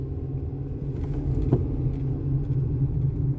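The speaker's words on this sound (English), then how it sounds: "I'm driving on my way to the gig right now" Steady low rumble from inside a car driving on the road, a constant engine and road drone with a faint click partway through, no talking.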